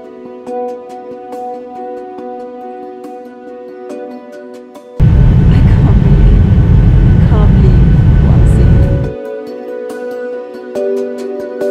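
An aircraft bound for Union Glacier in Antarctica starts its takeoff roll. The engines rise suddenly to a loud, broad roar that lasts about four seconds before dropping back to a steadier cabin hum with tonal engine whine.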